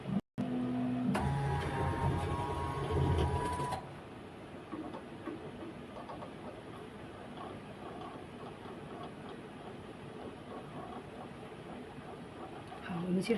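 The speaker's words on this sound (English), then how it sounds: "the machine will put the pizzas to the micro oven to heat" Inside a pizza vending machine, mechanisms whir and clatter as pizzas are moved into the microwave oven, a loud mechanical run that fades to a lower hum while someone talks over it.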